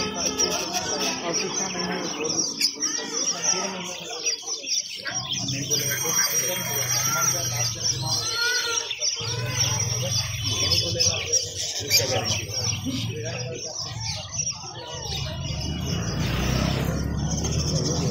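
A large flock of parrots screeches and chatters at close range in a dense, continuous chorus, with people talking underneath the birds.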